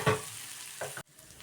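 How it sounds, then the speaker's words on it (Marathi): Green chilli-ginger paste with cumin, ajwain and sesame sautéing over low heat, a steady soft sizzle with a brief stir near the start and another scrape near the end, then a sudden drop to quiet. "कमी गॅसवरती हे परतून घ्यायचं व्यवस्थित."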